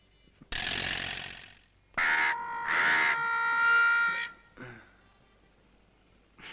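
A crow caws in several harsh, loud bursts close by, the calls separated by short gaps before trailing off.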